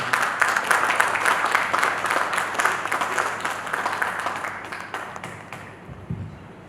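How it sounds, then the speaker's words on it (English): An audience at a talk on international distribution opportunities applauds steadily for several seconds, dense clapping that gradually thins and fades out toward the end. "Please, a round of applause for him."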